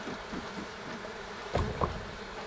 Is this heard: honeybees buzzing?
yes